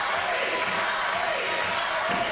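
A wrestling arena crowd reacts with continuous loud cheering, jeering and chanting, a dense wash of voices throughout.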